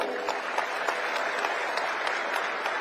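A crowd at a speech by Punjab Chief Minister Bhagwant Mann claps in a steady, dense burst of applause without any break.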